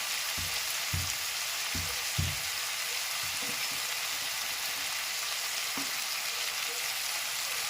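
Grated ginger and garlic fry in a hot pan with a steady, close sizzle, broken by a few soft low thumps and clinks from stirring; no one speaks.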